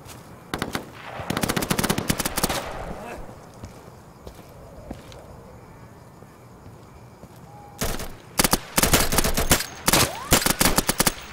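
Automatic weapons fire in the video game Insurgency during a co-op hunt mission, with rapid bursts of gunfire at the start and longer sustained bursts later, plus footsteps between them and voices talking over it.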